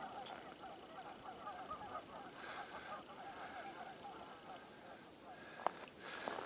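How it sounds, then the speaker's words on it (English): A flock of geese honks by a river, a faint, busy chorus of overlapping calls carrying on steadily at a distance in open outdoor air. "there's definitely a bunch of geese down here"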